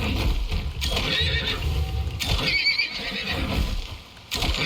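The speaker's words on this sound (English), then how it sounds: "2 angry horses." Horses whinny loudly in the video game Icarus in a couple of shrill bursts over a busy rumbling background, with faint hoof clatter in between.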